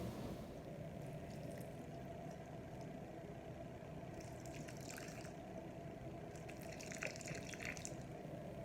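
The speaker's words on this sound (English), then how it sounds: "We're just going to give it a little bit of water" Water pouring steadily from a hose or can onto potted tomato plants freshly dosed with fertilizer, a constant close splashing wash with no talk.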